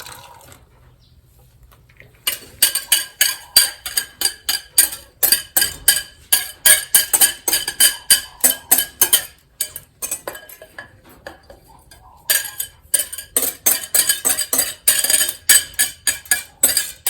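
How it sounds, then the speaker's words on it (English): Gluten-free bread batter is worked by hand: egg white and wet ingredients stirred into the dry in a bowl, with a steady run of rhythmic clinks and scrapes of utensil against the bowl, pausing briefly midway. "now we incorporate the white of the egg, all the wet ingredients with the dry"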